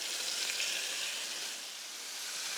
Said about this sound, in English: Our oil is hot. Let's put in our ribeyes.